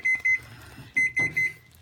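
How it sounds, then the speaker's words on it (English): A kitchen timer beeps in two bursts of three sharp, high electronic tones, loud and close in a quiet kitchen with faint clatter between them. "That's annoying when it beep, beep, beep, beeps."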